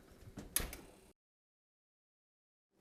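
An oven door being opened to check a brisket in a home kitchen, a brief burst of knocks and rattles in the first second, then silence.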